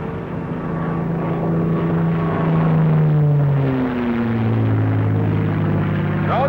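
A P-51 Mustang warbird's propeller engine drones steadily during a dive pull-out, its tone sliding lower and shifting as the aircraft recovers, continuous and loud with no talk over it.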